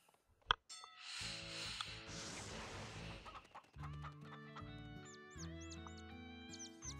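A cartoon chicken clucks in a My Little Pony: Friendship Is Magic episode about an autumn running contest, with short, chirpy clucks over music and sound effects after a sharp impact.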